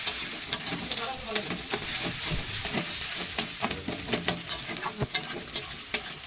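Oil heating and frying in a pan for homemade chow mein gives a constant sizzle, with frequent sharp clicks and scrapes of stirring throughout and no clear talking.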